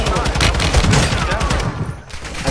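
Rapid bursts of automatic gunfire crackle continuously in Call of Duty: Warzone, loud and dense, before cutting out briefly near the end.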